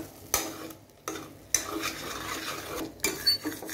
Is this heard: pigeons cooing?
no